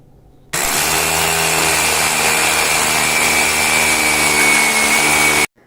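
A power drill bores holes for rebar into a concrete structure on a building site, starting abruptly and running as one loud, steady, high whine for about five seconds before cutting off sharply.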